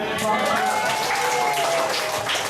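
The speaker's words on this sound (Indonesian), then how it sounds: "Oke, tepuk tangan." A crowd at a morning gathering breaks into applause, a continuous, moderately loud patter of clapping with voices mixed in over the top throughout.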